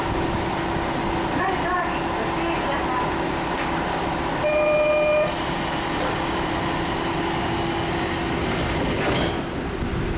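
A Kiha 47 diesel railcar engine drones steadily as the train runs along a viaduct, a loud, continuous rumble with a rising whine and some brief tones partway through.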